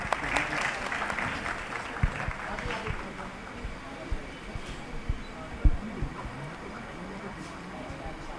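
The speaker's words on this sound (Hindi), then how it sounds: "और राजीव जी जैन काली परिवार की तरफ से है, एक बार ताली से उनका भी अभिनंदन करें।" Audience applause at a Jain scholars award ceremony in Delhi: a burst of clapping is loudest over the first few seconds, then thins out beneath murmuring voices and scattered knocks.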